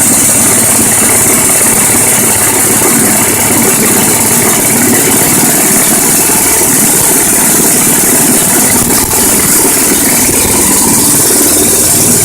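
A small 12 volt generator engine runs steadily under a continuous 50 amp load. It gives a loud, unbroken droning hum with a faint rattle, heard up close for the whole stretch.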